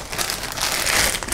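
A normal plastic bag crinkles and rustles briefly and continuously at close range while being handled in a kitchen, with no talk over it.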